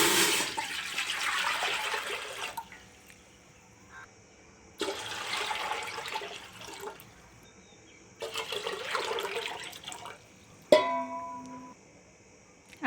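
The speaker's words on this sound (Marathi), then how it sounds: "म्हणजे ज्या घेतलेल्या बाजरीच्या 3 पट आपल्याला पाणी टाकायचं आहे" Water is poured into a cooking pot for sprouted pearl millet in three separate splashing pours, each about two seconds long with short pauses between them, followed by a sharp metallic clang of the pot.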